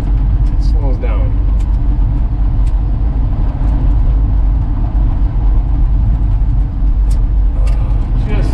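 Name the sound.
1966 Ford F100 truck engine chugging while given gas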